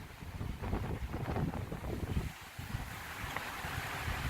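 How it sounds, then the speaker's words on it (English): Gusty wind buffets the microphone with a rough, rumbling roar that rises and falls steadily throughout. "You can see it's really windy."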